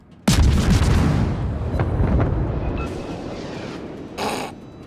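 A warship's naval guns fire in World of Warships, one loud sudden boom rolling into a long rumbling decay, with a smaller burst of noise near the end.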